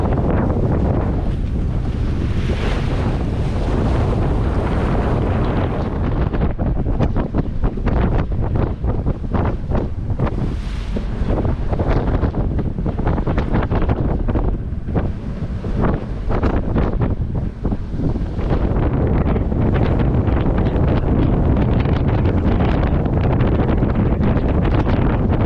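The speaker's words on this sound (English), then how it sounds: "it's blowing 25 knots again. The wind's really picked up" Strong 25-knot wind roars across the microphone in a continuous heavy buffeting while a sailboat runs at about 7 knots in the Kilbrannan Sound off the Isle of Arran, with waves and surf underneath and no voices.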